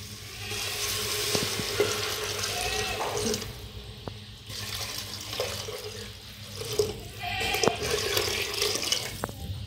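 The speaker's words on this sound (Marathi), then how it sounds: "आणि आता गरम केलेलं पाणी" Hot water pours into a cooking pot of biryani spices and salt, a steady splashing stream that pauses and resumes a few times, with small clinks of utensils and no talk.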